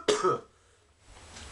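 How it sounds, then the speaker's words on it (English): A single harsh cough burst, close and fairly loud, trailing off into near silence with faint room noise afterward. "Please excuse the coughing, you guys."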